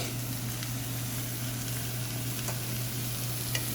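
Radicchio wedges sear in a hot pan with a steady, close sizzle that holds evenly throughout, a few faint clicks and pops rising now and then, and no voices.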